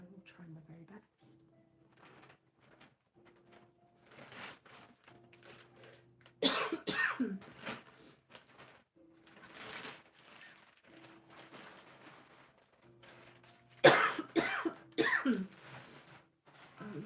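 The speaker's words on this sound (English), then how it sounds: "I'm so sorry for any coughing and stuffiness" Someone with a heavy cold coughs in two loud, harsh bursts during an indoor Christmas craft session, with quieter talking and low room sounds between them.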